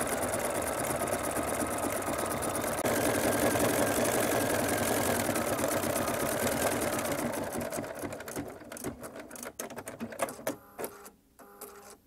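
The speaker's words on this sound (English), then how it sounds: "So this works really good for our home embroidery machines" A home embroidery machine stitches with Mettler Poly Sheen thread on heavy fabric, its rapid, steady mechanical chatter running continuously before slowing into broken, stuttering bursts and stopping near the end.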